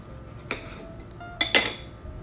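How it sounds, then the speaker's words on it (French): A knife slices through a tomato on a cutting board, a few short clicking contacts and scrapes, two main bursts close and fairly quiet against a faint kitchen background. "On va couper 2 belles tranches de tomates."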